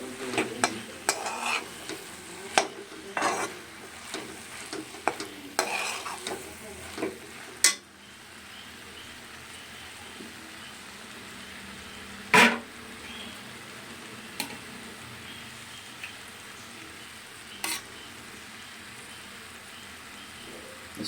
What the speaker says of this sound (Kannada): ಒಂದು 2 ನಿಮಿಷಕ್ಕೆ ಹಿಂಗೆ ಕೆದಕೋದ್ರೊಳಗಡೆ ಇದು ಬೆಂದೋಗ್ಬಿಟ್ಟಿರುತ್ತೆ ಸೊಪ್ಪು